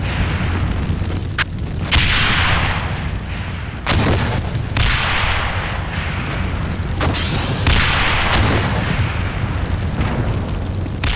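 Mortar fire and explosions in the Steel Beasts Pro PE tank simulator: several heavy booms and sharp blasts strike over a constant rumbling background, some close and loud, others more distant.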